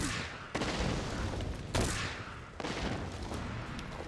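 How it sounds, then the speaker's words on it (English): Light bowgun shots in the video game Monster Hunter World, several sharp blasts with rushing noisy tails and a dense, loud crackling bed between them. "let's just shoot him through the face"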